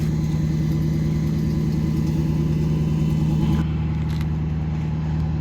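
A tow truck's engine runs steadily at close range while a car is loaded for towing, a loud constant mid-pitched drone with a faint change near the end.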